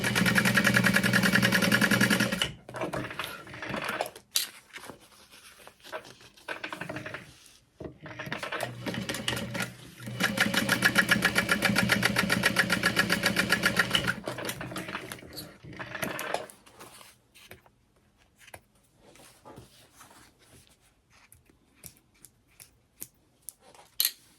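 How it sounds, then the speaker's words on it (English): A sewing machine top stitches a seam open on a sling bag, whirring in several sustained runs separated by short pauses, then tapering off into quieter intermittent clicks and handling noise near the end. "And then I'm going to top stitch that open."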